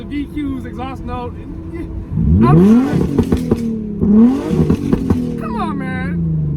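A Rocket Bunny Nissan 350Z with a VQ engine blips its throttle in two sharp rising revs, the exhaust note swelling loud and close and falling back each time, with people talking before, between and after.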